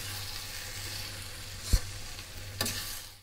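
Onion, tomato and coriander chutney sizzles and fries in a pan as it is stirred, a steady hiss broken by two sharp clanks of the spoon against the metal.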